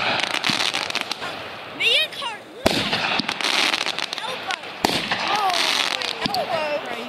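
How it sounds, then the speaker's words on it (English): New Year fireworks explode in a dense, continuous crackle with several sharp, loud bangs, while whistling shells rise and people cheer and talk excitedly throughout. "fireworks!"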